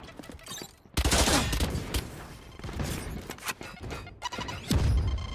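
Loud, dense bursts of gunfire spammed in Valorant, an abrupt barrage that opens hard, keeps rattling with brief gaps, then flares again near the end.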